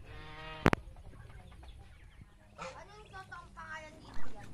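Geese on a farm with honking and clucking calls, some close and some further off, plus a sharp knock and rustling, while someone talks quietly in between.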